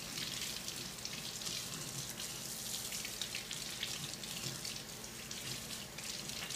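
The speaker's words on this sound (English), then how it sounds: "Now I just use, lukewarm water. Doesn't have to be scalding. And you just run the water through it." Lukewarm water runs through a Dyson DC56 handheld vacuum filter, making a steady, continuous rushing splash close by with no pauses and no talking.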